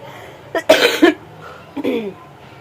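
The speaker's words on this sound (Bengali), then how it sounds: "আর এরকম কাশি হচ্ছে" A few harsh coughs, one short burst then a second pair after a pause, close by, with faint background noise.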